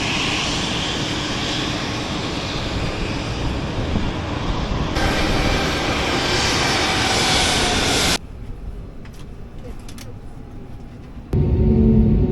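Steady, loud broadband roar of an airliner cabin during a Wizz Air flight to Tromso, continuous jet engine and airflow noise that drops in level partway through and then rises again.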